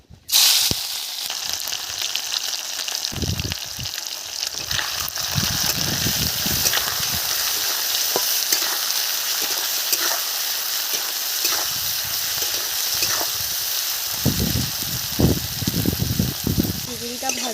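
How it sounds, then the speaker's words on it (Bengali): Prawns dropped into a pan of hot oil give off a steady, close, crackling sizzle that holds evenly throughout, with a few soft stirring knocks now and then. "তেল গরম হয়ে গেছে, চিংড়িগুলো দিয়ে দিলাম।"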